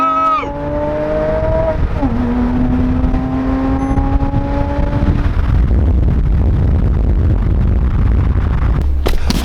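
A Porsche Cayman accelerates hard in a drag race, its engine climbing through several rising gear pulls with brief shift breaks, loud and close, before the revs fade into steady road and wind roar.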